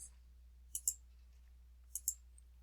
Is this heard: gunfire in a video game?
no